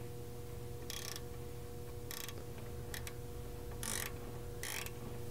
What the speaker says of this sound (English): Lastly, we're going to tighten down the inner ball joint retaining nut with a 22 millimeter